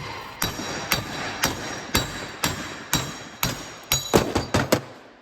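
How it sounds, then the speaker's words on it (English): Sharp metallic hammer blows knock out a front wheel bearing on a 2004-2011 Ford Focus, striking at a steady pace, about a dozen in all, quickening into a rapid cluster near the end. "we'll just hammer it out"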